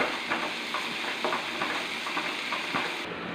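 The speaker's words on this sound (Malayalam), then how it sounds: "കറിവേപ്പില ഇടുവാണേ" Curry leaves dropped into hot oil in a Kerala kitchen while making tomato pachadi, giving a steady close crackling sizzle with small popping bursts throughout, no talking.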